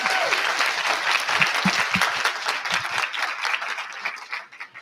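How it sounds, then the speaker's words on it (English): An indoor church convention audience bursts into sustained applause, dense and fairly loud, before it fades out. "Can we give him a round of applause?"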